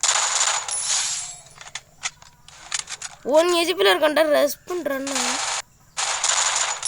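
Bursts of rapid automatic gunfire from the game Free Fire Max, loud and close, with someone speaking over a pause in the shooting before the firing resumes.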